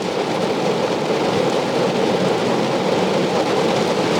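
Torrential rain pounds on a car from inside during a sunrise in southern England, a dense, loud, unbroken roar of drumming with no voices.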